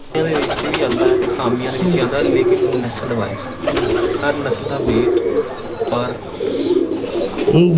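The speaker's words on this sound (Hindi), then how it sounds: "ये हम आपको अपने बांके कबूतर दिखा रहे हैं जी।" Pigeons coo steadily in low, throaty bursts, close up, with chirps and rustling around them and some talking in the background.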